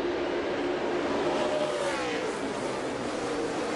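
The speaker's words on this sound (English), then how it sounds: "Who has the better restart? A drag race into turn one." NASCAR race cars roar as they accelerate off a restart at the Brickyard 400, a loud, dense wall of engine noise with a rising whine sweeping through it, continuous throughout.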